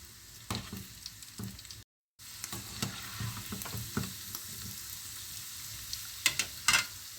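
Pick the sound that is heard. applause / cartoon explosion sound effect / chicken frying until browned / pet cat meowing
chicken frying until browned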